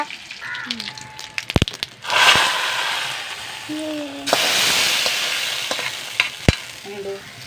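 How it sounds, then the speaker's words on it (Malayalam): Mustard seeds hit hot oil in a pan with a burst of sizzling and crackling, surging loudly after sharp clattering knocks and then hissing steadily with scattered pops, while faint voices murmur in the background. "കുറച്ച് കടുക് ഇട്ട് കൊടുക്കുക"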